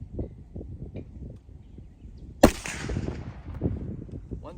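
A single sharp report from a .50 Beowulf rifle cracks out mid-clip, loud and close, with people talking before and after it.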